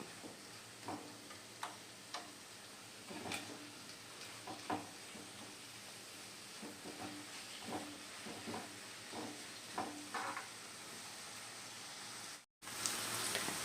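Onion, ginger, garlic and coconut pieces sauté in a pan with a soft, continuous sizzle, broken by light spatula ticks and taps at an uneven rhythm. It stays fairly quiet and cuts out briefly near the end.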